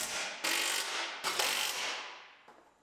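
Ratchet wrench tightening bracket screws during final assembly of a 2015 Chevrolet Silverado Duramax LTZ, heard as a few bursts of rapid close-up clicking with short pauses between strokes.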